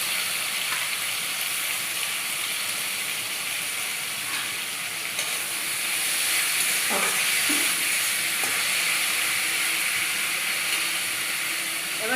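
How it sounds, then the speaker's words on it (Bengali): Boiled bottle gourd peel sizzles steadily in a hot pan with dried and green chillies, a constant crackling fry with occasional stirring scrapes. "এবার দিয়ে দেব এই সিদ্ধ করে রাখা লাউয়ের খোসা।"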